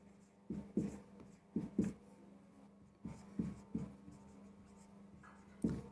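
A pen scratches across paper while a geometry proof of the Pythagorean theorem is written out by hand, in short strokes grouped in pairs with pauses between groups, close and fairly quiet.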